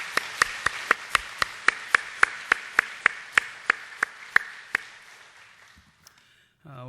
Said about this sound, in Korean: 우리 교사들 다시 한번 박수로 격려합시다.